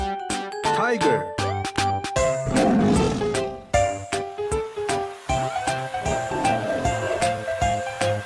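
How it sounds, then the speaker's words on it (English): Cartoon tiger roaring in an animated clip, repeated loud roars over a busy musical backing with sharp tonal hits, cut with short pauses through the clip. "Tiger."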